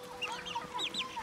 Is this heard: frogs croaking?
no